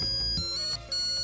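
A mobile phone ringtone plays as a bright, repeating electronic pulse, loud and close, with no voices over it.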